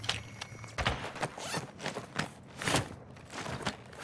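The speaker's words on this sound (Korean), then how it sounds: "왼쪽 발소리" Footsteps from the left side in Modern Warfare 2 DMZ, a run of soft, uneven scuffing steps with clicky transients over steady game ambience, moderately close and not very loud.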